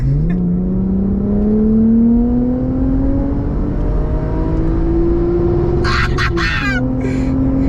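A 2008 Lexus IS250 XE20 with a V6 engine revs up under hard acceleration, its pitch climbing steadily and loudly from the cabin before easing off, with brief rattling clicks near the end.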